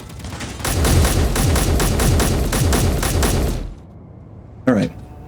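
Rapid, loud automatic gunfire in a video game set during an enemy airbase raid, sustained for a few seconds before cutting to near silence, followed by a brief rising electronic tone.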